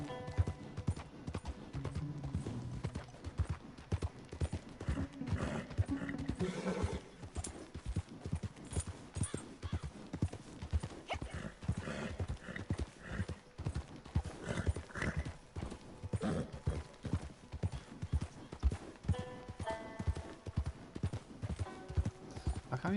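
Steady clip-clop of horse hooves trotting in Red Dead Redemption 2 Online, in a continuous rhythm, close and clear, with a brief whinny and game ambience beneath.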